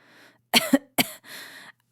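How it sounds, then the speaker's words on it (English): A rough, ragged cough in a few harsh bursts, close by, trailing off into a breathy rasp. "She tried to scream, but it came out as a ragged cough."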